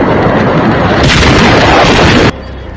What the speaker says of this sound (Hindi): पटाखे फटते रहे